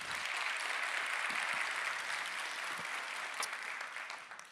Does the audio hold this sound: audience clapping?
yes